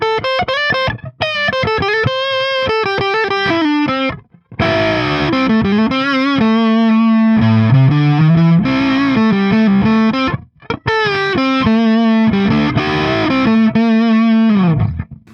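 Heavily distorted electric guitar on a budget Telecaster-style guitar's humbucker pickup, playing melodic lines and sustained bends, loud and thick, with brief pauses between phrases.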